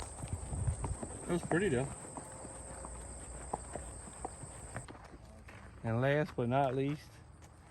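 Horses' hooves clip-clop near Deep Creek Lake, a few irregular steps heard faintly beneath people talking, with other voices and background noise around.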